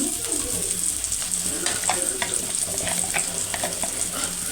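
Brinjal frying in a pan with chili powder added, a close steady sizzle with regular scraping strokes of stirring, while birds such as pigeons coo faintly in the background.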